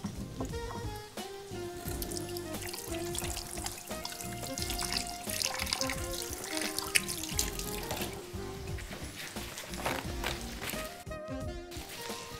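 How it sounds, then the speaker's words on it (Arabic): Hands being washed under a running kitchen tap after handling raw minced meat, a steady splashing flow of water close by with soft rubbing and trickling throughout. "اغسل ايدي"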